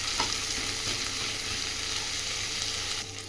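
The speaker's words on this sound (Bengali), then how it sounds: "এর সাথে টমেটোটাও কষিয়ে নেব।" A spice paste with tomato sizzles and crackles steadily as it is stir-fried in a pan for a tengra fish curry, a close and continuous frying hiss with small pops and no voices.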